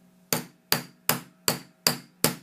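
A hammer bashes at metal to texture its surface, six crisp, evenly spaced blows roughly every 0.4 seconds, each a sharp close impact with a brief metallic ring, with no talking.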